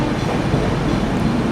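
The MGR Chennai Central–Howrah Mail superfast express runs along the track with a loud, continuous rumble and rattle of wagons, heard close from on board.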